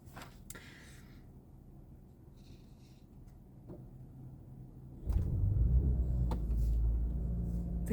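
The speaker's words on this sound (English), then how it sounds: "The car wants to rev the engines." A car engine rumbles at a low, steady idle, then surges into a loud, sustained rev about five seconds in and holds that raised roar to the end, with a few brief knocks along the way.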